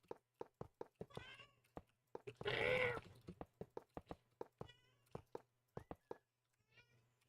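A cat gives a single drawn-out meow amid sharp repeated knocks and clicks, like keyboard or mouse taps, with faint talk in the background; the meow is moderately loud against a quiet room.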